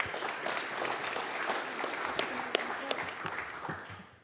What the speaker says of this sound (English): maybe we can welcome him with another round of applause